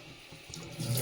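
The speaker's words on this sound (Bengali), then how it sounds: "আর একটু জল দেবো" Water pouring into a pot of egg and greens curry on the stove, a soft splashing stream that swells louder near the end; no talking.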